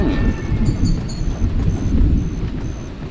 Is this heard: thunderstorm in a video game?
yes